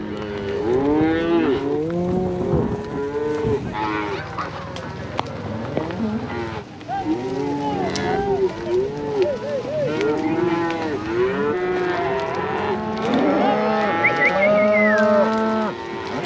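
Cattle moo repeatedly and loudly during a cattle drive up to the mountain, many overlapping calls from near and far, with brief talk at moments.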